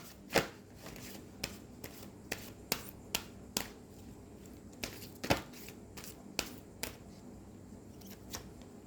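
Numerology cards are shuffled and handled in a quiet room, giving a series of sharp, irregular snaps and flicks spread across the moment, close and crisp.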